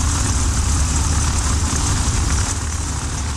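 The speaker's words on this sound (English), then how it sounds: "Start engine, master throttles." A freight aircraft's propeller engine running after start, a loud, steady, low mechanical drone heard close from inside the cockpit without talk.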